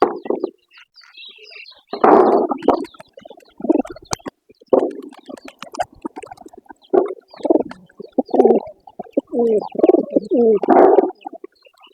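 Pigeons coo close by in low, throaty bursts, repeating at irregular intervals with brief pauses between calls, at a pigeon farm.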